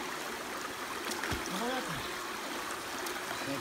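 Steady broadband rush of mountain spring water flowing like a nearby trickling stream, continuous throughout with faint background voices.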